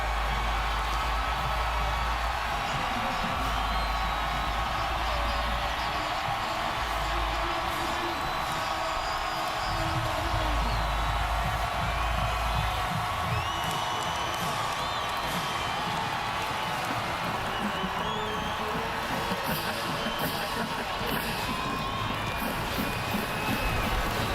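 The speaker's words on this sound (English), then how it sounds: "Sellout crowd here." A sellout stadium crowd at a college football game, Baylor at Oklahoma State, roars continuously as the home Cowboys run out of their tunnel, with sustained cheering, whoops and shouting filling the space loudly throughout.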